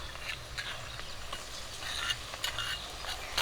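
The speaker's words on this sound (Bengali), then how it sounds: "কাঁচা লঙ্কা আর পেঁয়াজ একটু লাল করে ভেজে নেব" Green chilli and onion fry in oil with cumin paste, giving a faint, steady sizzle with soft scraping stirs, close but quiet and without talking.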